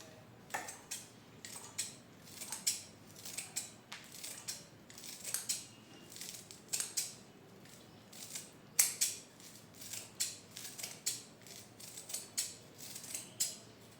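Repeated crisp snipping while herbs such as amarvel are cut into small pieces for an ayurvedic hair oil, a steady run of close, sharp scissor clicks with short pauses and no talk.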